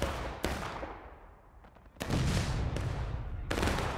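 Cannon fire in the Civil War game War of Rights, several sharp, broadband booms at intervals with rumbling decay between them, fairly distant and moderate in level.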